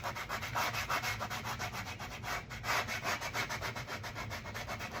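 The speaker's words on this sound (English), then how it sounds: "I'm next using 120 after I rough sanded with the 80." Hand sanding with 120 grit sandpaper inside the wooden body of an F-style mandolin kit, a close, rhythmic rasping of quick back-and-forth strokes that repeat steadily throughout.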